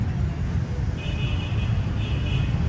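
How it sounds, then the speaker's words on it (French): Busy street traffic in Pattaya, Thailand, a dense continuous roar of engines and tyres close by, with faint horn toots rising out of the wash. "beaucoup de trafic et d'ailleurs on va s'y retrouver d'ici quelques secondes nous"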